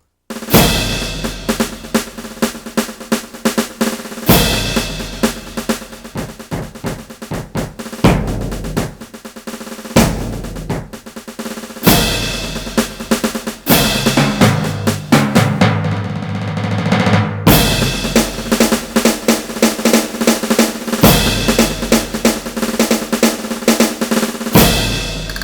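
Roland TD7 electronic drum kit played in a dense groove, kick, snare and cymbal sounds layered together, loud and close with steady hits and a short break midway, no talking.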